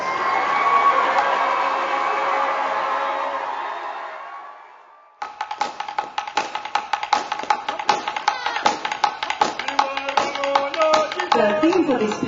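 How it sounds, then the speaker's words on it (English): An audience at a South Pacific beauty pageant applauds the queens, a dense sustained wash of clapping and cheering that fades out, then gives way to sharp, irregular tapping claps. "Another round of applause for all the queens."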